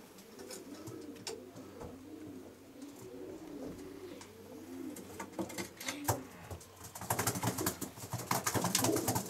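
Pigeons in a breeder's racing-pigeon loft coo in a steady, repeated rhythm close by, with rustling and fluttering growing louder toward the end; no one speaks.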